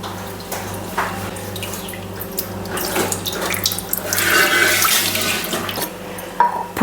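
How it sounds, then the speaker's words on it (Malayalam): Soaked tamarind is squeezed into water in a clay pot, giving steady splashing and trickling water with a few louder sloshes, close and continuous under a low background hum. "നമുക്ക് ഇതിലേക്ക് ഈ കലച്ചട്ടിലേക്ക് പുളി പിഴിഞ്ഞൊഴിക്കാം"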